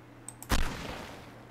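An outside explosion in ARK: Survival Evolved on the Extinction map, a single sharp blast that booms and then trails off into a fading rumble, preceded by a couple of faint clicks.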